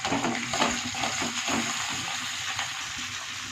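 Leftover idli pieces tossed into hot oil tempered with mustard seeds, chana dal, urad dal and curry leaves, crackling in a steady close sizzle with a few stirring scrapes.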